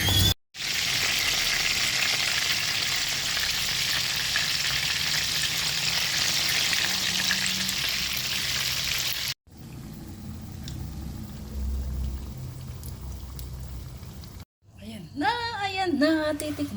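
Lumpiang Shanghai spring rolls fry in shallow oil with a loud, continuous close sizzle that later drops to a softer bubbling, and a voice speaks briefly at the end.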